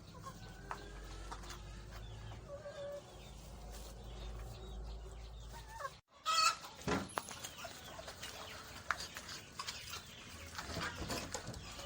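Layer and breeder chickens at a community development center cluck steadily in a busy farm yard, with a louder burst of nearby clucking midway and a rooster-like call among the flock.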